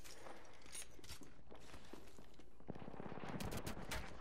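Gunfire in a western-style shooting game: rapid bursts of shots crackle through the clip, with a dense volley near the end, all fairly quiet and distant-sounding, with no talking.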